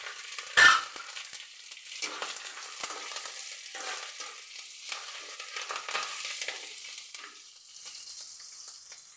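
Curry leaves and chopped chilli hit hot frying oil for a tempering, giving a sharp burst of spitting at first that settles into a steady, softer sizzle, with occasional stirring clinks close up.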